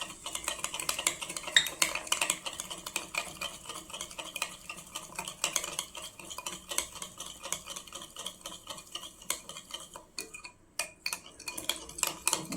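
Chilled curd from the fridge is whisked with chaat masala and sugar in a bowl. A spoon or whisk clicks and scrapes against the dish in a quick, steady rhythm, close and moderately quiet, with a brief pause near the end.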